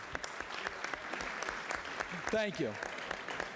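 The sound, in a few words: round of applause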